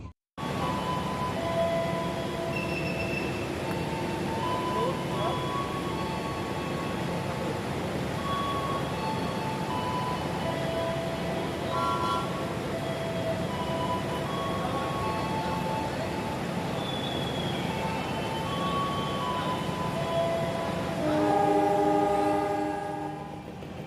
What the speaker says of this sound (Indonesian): kereta api Motis Lebaran Tengah tiba di Stasiun Kroya